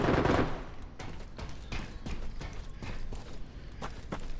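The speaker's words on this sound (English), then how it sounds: "I think those gunshots are actually below in the" Gunfire in the survival shooter Deadside, coming from a bunker below: a string of sharp, muffled shots fired at an irregular rhythm, moderately distant, with no talking.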